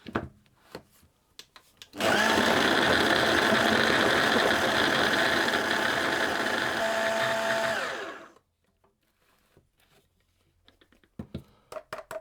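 A food processor whirs for about six seconds, cutting cold cubed butter into coarse crumbs, a loud steady motor buzz with a rattling blade churn, framed by quiet clicks and handling knocks before and after.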